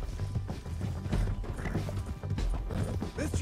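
Galloping horse hooves in Red Dead Redemption 2 thud in a steady, repeating rhythm close by, mixed with creaking tack and rattling gear, with no talk over them.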